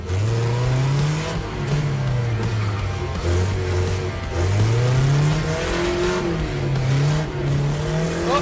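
Street-racing car engine revving hard through repeated rising pulls while chasing another car, its tone uneven and stuttering from a misfire, loud and close throughout.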